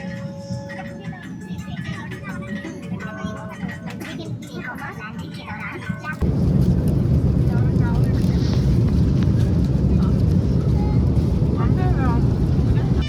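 Steady broadband roar of an Air India airliner cabin in flight on a route to Hyderabad, with the engine drone rising louder halfway through and voices talking over it.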